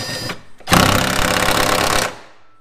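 A speed ratchet spins rapidly while fitting PowerFlex polyurethane bushes on a track-prepared R32 car, giving a loud, dense, buzzing whir of about one and a half seconds after a brief quieter tap.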